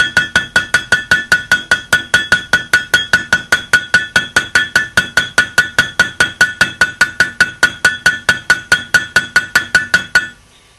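A hammer taps a Mitsubishi-style rear wheel bearing flat in a rapid, even run of bright metallic strikes, dozens of them in steady rhythm, close and loud, then stops abruptly.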